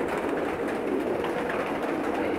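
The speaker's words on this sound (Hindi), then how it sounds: "कुछ स्पेशल कबूतर दिखा रहा हूं" Pakistani pigeons in Jeddah coo softly in a low, murmuring flutter, several birds blending into a steady background hum.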